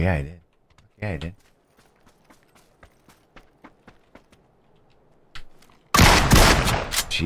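DBS shotgun firing in the PUBG video game: a loud burst of heavy blasts at the end, after scattered quieter clicks, with short bits of voice near the start.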